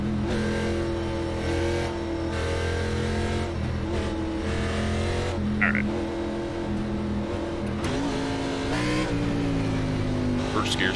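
A NASCAR race car engine in the iRacing video game, at the Milwaukee Mile, drones steadily at a held pitch throughout, with brief higher chirps and squeaks cutting in now and then.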